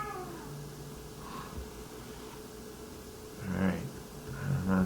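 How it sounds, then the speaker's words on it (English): Cats fighting outdoors in the distance, with drawn-out meowing and caterwauling that swells into louder yowls toward the end over a steady low background hum. "Oh man, I got a cat fight going on over here."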